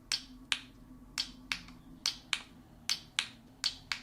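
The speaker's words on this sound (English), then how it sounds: "an extra click sound" Quiet, sharp plastic clicks from a fidget toy repeat in irregular pairs and singles, crisp and close with a faint hum behind them.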